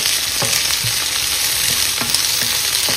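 Onions and chopped vegetables for chira poha fry in a pan with a constant close-up sizzle. Periodic scraping knocks of a spatula stirring recur every half second or so, and no voices are heard.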